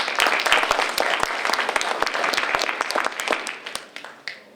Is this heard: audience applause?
yes